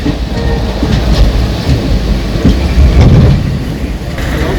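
Passenger train running on the rails between Kozhikode and Ernakulam by way of Shoranur junction, a loud continuous rumble with rattling carriages and faint clatter from the tracks, steady and close throughout.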